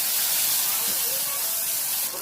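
A pan fries its contents with a loud, steady, close hiss of sizzling oil that barely changes throughout.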